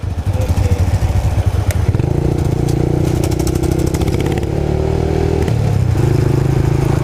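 Yamaha Mslaz 150 motorcycle revving hard during a wheelie, a loud close engine roar that steps up in pitch, dips and climbs again, with some clatter and scraping underneath.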